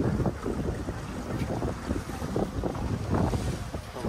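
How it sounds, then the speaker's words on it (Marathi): A tour boat engine runs at high RPM on Ha Long Bay, a continuous churning drone mixed with strong wind buffeting and splashing water, with no voices. "अशी एकदम भारी चालवली त्याने, एकदम हाय RPM इंजिन"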